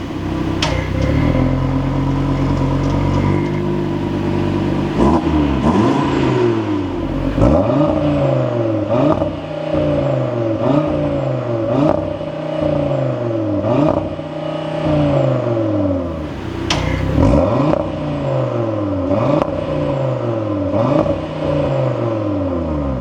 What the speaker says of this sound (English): this RS3 is castrated by Audi's constant use of soft limiter when revving at standstill